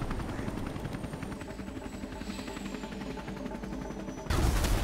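Helicopter in the Predator: Hunting Grounds video game at the extraction point, a steady loud rotor chop with rhythmic thumping throughout, swelling louder near the end amid other battle noise.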